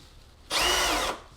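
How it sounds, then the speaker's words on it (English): A power drill bores a hole in one short, loud whirring burst of under a second, starting abruptly and stopping cleanly against a quiet background. "Now you could drill the hole"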